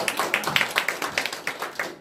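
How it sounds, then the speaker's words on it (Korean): A church congregation applauds during a family worship service, a brisk, evenly paced run of overlapping handclaps at close range, steady for a couple of seconds with no talking. "이분하고 한번 박수 한번 쳐주세요"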